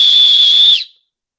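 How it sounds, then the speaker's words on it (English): A single close, loud, steady blast from a hand whistle holds for under a second, then cuts off sharply into silence. "I haven't blown a whistle in a long time."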